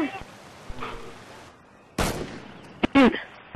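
Video game rifle gunfire: a few loud, abrupt shots and bursts, close and sharp, among quieter game sounds, with a player's voice talking briefly around them.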